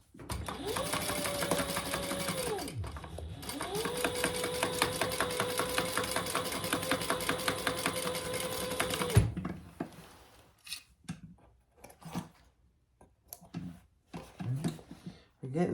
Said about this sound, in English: let's do that second row of stitches